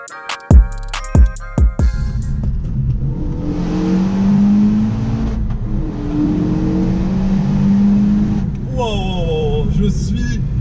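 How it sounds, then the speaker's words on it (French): A Renault Megane 3 RS Trophy with an Akrapovic exhaust crackles through sharp revs, then accelerates hard with a loud rising engine note that climbs through gear changes, heard close from inside the car. "bluffé par cette Mégane 4 RS. Je savais pas que c'était aussi rapide."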